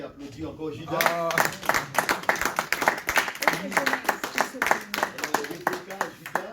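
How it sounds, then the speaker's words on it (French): Indoor seminar audience clapping, a burst of many hands that starts after a second of talk and continues steadily, fairly close and lively, with a voice heard briefly at the start. "Est-ce que vous pouvez applaudir encore Judas?"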